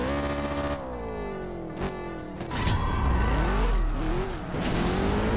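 A Porsche in the CSR 2 mobile drag-racing game revs at the launch and climbs through its gears, with nitrous firing partway through. The engine note rises in pitch, drops at each shift and swells to a louder, fuller roar in the second half.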